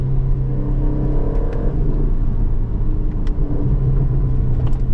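A 2025 Aston Martin DB12 Volante carries a loud, continuous low engine rumble heard from the cabin while driving, with faint crackling pops in the exhaust burble on top.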